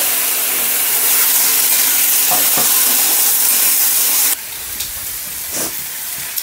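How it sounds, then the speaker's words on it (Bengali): Potatoes stir-fried with spice masala in a pan give a loud, continuous sizzle with scraping stirs, dropping to a quieter hiss partway through, with a few more scrapes. "এরপর আমি আলুটা দিয়ে আরেকবার কষিয়ে নেব। দিয়ে দিচ্ছি আলু।"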